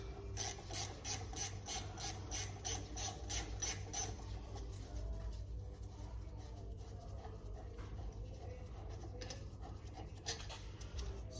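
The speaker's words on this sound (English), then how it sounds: "So we'll just crack these bolts off." A ratchet loosens 15mm caliper slider bolts on a Ford Transit front brake, giving a quick run of rhythmic clicking strokes at close range, followed by quieter scraping and handling of tools.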